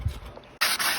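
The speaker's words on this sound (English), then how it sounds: "Sanding all the area up." Harsh, steady scratchy rasping of sandpaper against a boat's surface around a window, close and loud, starting abruptly after a quieter rubbing moment.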